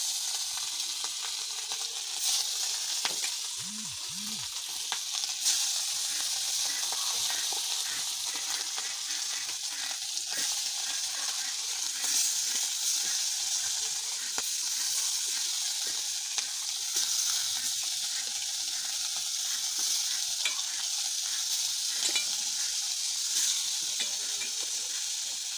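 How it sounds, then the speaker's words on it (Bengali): Small puti fish fry in a pan over a stove with a constant bright hiss and crackle, steady and close throughout, broken by an occasional faint tap or scrape. "উনানটা ধরে দিয়েছি আর মাছ ভাজা করে"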